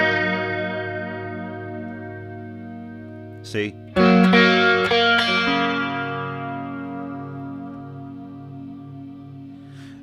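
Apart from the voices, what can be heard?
Warm Audio WA-C1 chorus vibrato pedal effect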